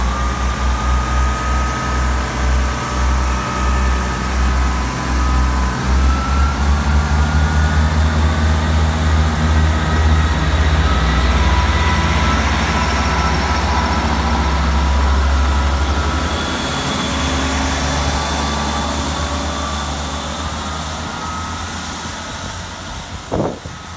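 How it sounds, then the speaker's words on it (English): A Great Western Railway class 158 diesel multiple unit pulls away from a station, its engine throbbing loud and near, revving low and steady before fading slowly as it draws off. "Ready to leave now is the 1356 Great Western Railway service."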